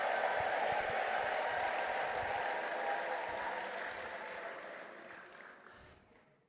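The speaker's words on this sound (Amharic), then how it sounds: "ታጨበጭባላችሁ" A church congregation claps together in sustained applause, dense and steady at first, then slowly thinning and fading away toward the end.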